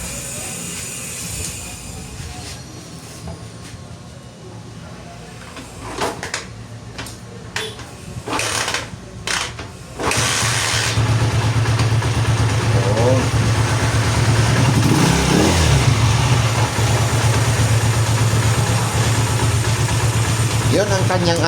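A Honda TMX 155 motorcycle is kick-started and settles into a steady, loud idle. Scattered knocks and handling noises come first, then the engine catches near the middle and runs continuously and close for the rest, with brief blips of throttle.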